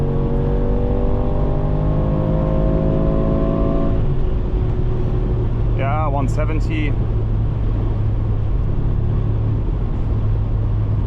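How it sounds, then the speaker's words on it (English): A 2026 Mercedes G63 AMG with its V8 engine at high speed on the Autobahn, a loud continuous roar and rumble with a rising tone that levels off, while someone speaks briefly over the drone. "in terms of V8 sound, it's absolutely fantastic"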